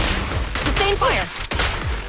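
Gunfire in the video game Zenless Zone Zero, a short loud burst of shots mixed with game effects and overlapping voice lines during a combat ambush.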